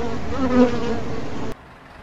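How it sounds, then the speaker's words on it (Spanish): A bee buzzing close by, a steady wavering drone that lasts about a second and a half before cutting off abruptly, leaving quiet background. "Tienes una abeja en la cabeza."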